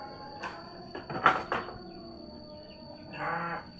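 A sheep bleats in short, moderately close calls during its routine Friday bath, with a couple of sharp knocks in between and quiet stretches.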